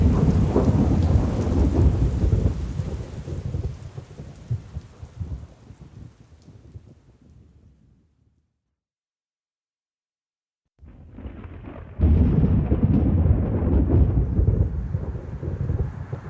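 Thunderstorm with heavy rain: a loud roll of thunder and downpour that fades into near silence, then the rain and rumble return abruptly at full strength.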